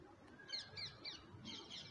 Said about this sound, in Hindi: वो दोनों तोते लड़ रहे हैं।